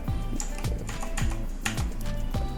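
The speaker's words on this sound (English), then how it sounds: "I'll hit R on my keyboard" Computer keyboard keys pressed in quick succession, a few crisp clicks close up over a steady background hum, with no talking.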